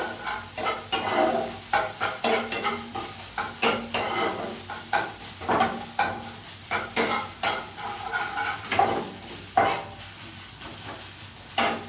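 Fish roe stirred and fried in a pan for a Bengali prawn dish, with repeated scraping strokes of a utensil against the pan over a steady sizzle, close and moderately loud, no talking.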